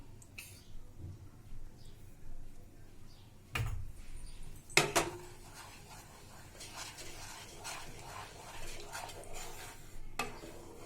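A spoon stirs fine semolina and cardamom into a sweet mawa filling for gujiya in a pan. It makes soft, close scraping and clinking sounds, with a few sharper metallic knocks and quiet rhythmic stirring. No one talks.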